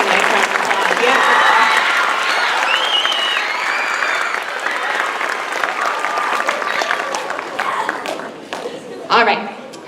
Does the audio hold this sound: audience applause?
yes